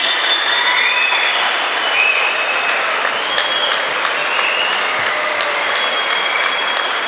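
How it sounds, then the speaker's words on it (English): Conference audience at a Canara Bank officers' triennial gathering gives loud, continuous applause, a dense crowd of clapping hands held at an even level throughout, with faint whistles and no talking. "A thundering round of applause, ladies and gentlemen."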